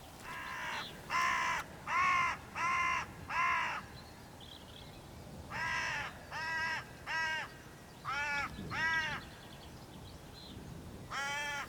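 A hooded crow perched on a countryside hedgerow caws repeatedly in clusters of two to four harsh calls with short gaps between, clear but somewhat distant over faint outdoor background.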